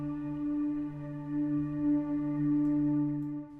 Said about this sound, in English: we have sort of like a warmer synth sound